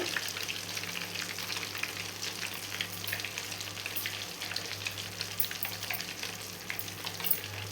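Cardamom and curry leaves sizzle in homemade ghee with a steady, dense crackle and faint spattering over a constant low hum, close and even throughout, with no voices.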